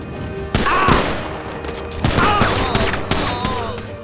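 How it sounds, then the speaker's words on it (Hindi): Rapid burst of pistol gunfire inside the GTA 5 video game, loud, close shots stacked into a fusillade that repeats in a few flurries over a busy in-game background. "और गोलियों की बौछार शुरू कर देता है इन दोनों पे"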